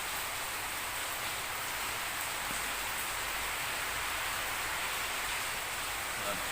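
Rain falls outdoors in a steady, dense hiss during an afternoon of grilling pork, a constant wash of drops without breaks and no voices over it.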